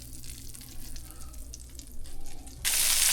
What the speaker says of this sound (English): Got that butter heating up, and we're just working in batches, going to fry these cutlets off.